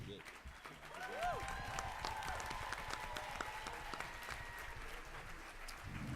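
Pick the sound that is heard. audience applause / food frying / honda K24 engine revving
audience applause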